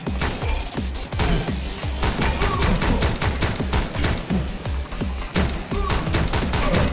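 Continuous rapid gunfire in the train shooter game Speed Limit, loud and dense shot after shot with barely any pause throughout.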